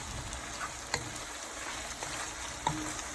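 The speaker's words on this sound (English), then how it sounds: "and my shrimp. And I'm gonna stir everything." Shrimp, pasta and garlic butter sizzle steadily in a pan, a soft continuous frying hiss with a couple of faint clicks from stirring utensils.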